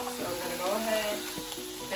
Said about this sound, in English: Got some onions. I actually am gonna throw those in there, let those brown up a little bit.